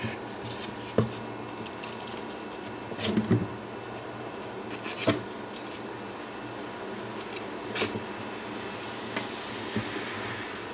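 Steady dry rasping of sandpaper rubbing against the copper wire of a 76mm voice coil, continuous and close, with a few sharper scraping bursts scattered throughout.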